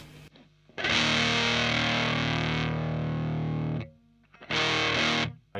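Electric guitar through a fuzz pedal with the distortion turned down, playing a long sustained chord that rings out, then a shorter second strum after a brief pause, loud and alone.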